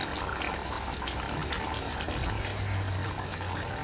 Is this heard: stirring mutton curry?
yes